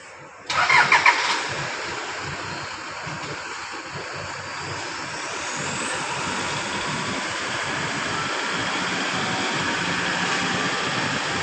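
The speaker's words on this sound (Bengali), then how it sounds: "এক মিনিট পর পরই একটি করে বাস আসছে" A city bus pulls in at a Singapore bus stop, a steady mid-level engine rumble building and holding for several seconds after a brief sharp burst at the start, with broadband street noise throughout and no talking.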